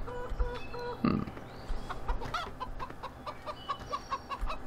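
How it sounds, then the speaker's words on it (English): Chickens cluck and squawk in a Farming Simulator 15 farmyard pen, a busy scatter of close, overlapping clucks with one louder squawk near the start, over a low steady game background hum. "Good thing we spawned in some chickens."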